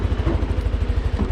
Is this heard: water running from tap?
no